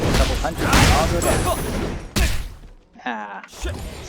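An explosion ability firing in the action game SoulWorker, with loud bursting blasts and sharp impacts that come in clusters, then a short gap and a final thump, all mixed with busy game effects.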